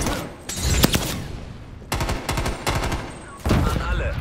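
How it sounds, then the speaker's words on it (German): Artillery barrage and gunfire in Call of Duty Black Ops Cold War multiplayer, loud close bursts of automatic fire and heavy blasts coming in clusters with short pauses. "An alle, Artilleriebeschuss."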